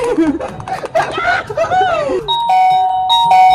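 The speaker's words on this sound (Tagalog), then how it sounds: "Pwede na ulit akong magpindot ng doorbell!" Children's voices and giggles at first, then an electronic doorbell chime rings out in clear repeated tones, loud and near.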